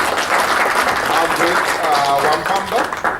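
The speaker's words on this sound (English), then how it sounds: "Shall we give a round of applause to Princess Mazzi" Loud applause fills the room at a poetry book launch, sustained across the whole stretch. Voices and a few cheers rise over the clapping.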